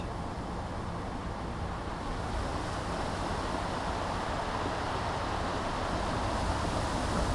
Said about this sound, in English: Stand beside this shore. The water wets my shoes